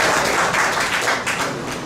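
Congregation at a prayer retreat clapping their hands together, a loud, continuous wash of claps that stays close and steady for under two seconds.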